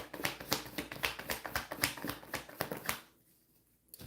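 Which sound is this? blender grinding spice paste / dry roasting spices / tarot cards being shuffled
tarot cards being shuffled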